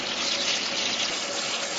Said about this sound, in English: that's your overflow water filling the tank here